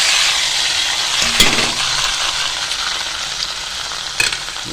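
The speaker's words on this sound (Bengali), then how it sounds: "এবার আমি এটাকে কড়াতে সামান্য সাদা তেল দিয়ে এই পুরো পেস্টটাকে আমি ঢেলে দেবো" Mashed paste frying in a little white oil in a kadai, a steady broadband sizzle with a sharp clink of a utensil near 1.4 seconds and another near 4.2 seconds.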